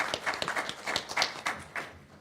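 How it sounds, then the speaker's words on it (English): Scattered hand claps from a small audience at a community summit panel on homelessness, a brief uneven round of applause with distinct individual claps, moderately loud and close, no talking over it. "Round of applause."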